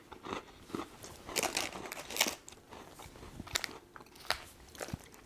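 Crisp bites and crunchy chewing of an orange-flavoured, lightly cinnamon-spiced biscuit similar to a digestive or rich tea, from Estonia, heard close up as a series of irregular crunches with no talking.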